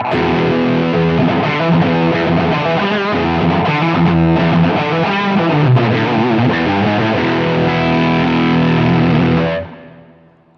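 Electric guitar played through a Spidfire Fuzz clone pedal with its gain boost switched on, giving a loud, thick, saturated fuzz tone that holds steady for about nine seconds before being cut off and fading out.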